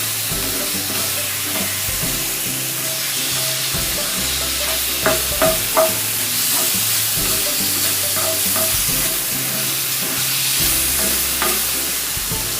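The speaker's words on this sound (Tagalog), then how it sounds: "you stir fry, make sure that your pan is really thick, because you cannot stir fry to brown when your pan is not thick" Food stir-frying in a hot, thick institutional steel pan with a metal handle: a loud continuous sizzle with scattered scrapes and clinks from stirring, no voices.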